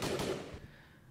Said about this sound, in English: and you added the gunshots.